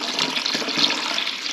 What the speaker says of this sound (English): we will put a big old pitcher of water in here